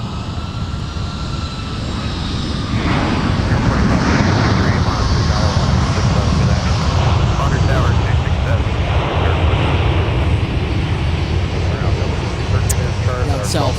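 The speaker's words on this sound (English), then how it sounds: "We have an ex-red tail, former Northwest, Delta A320" A former Northwest Delta Airbus A320 airliner at Minneapolis–Saint Paul airport gives a loud, sustained engine roar that swells after a couple of seconds and holds steady, with talk over it.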